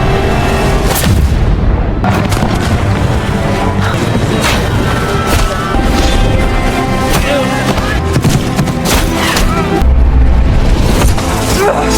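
Dense, loud film battle noise: booming blasts and rapid gunfire pile up continuously, mixed with crashes and voices shouting over the chaos.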